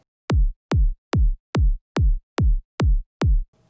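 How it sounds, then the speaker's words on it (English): Eight punchy psytrance kick drum hits synthesized in Kick 2, each a sharp click dropping into a deep booming tail, evenly spaced at a steady dance tempo, loud and dry with nothing else playing. "Today we're gonna do a tutorial on how to make a Psytrance kick using kick 2"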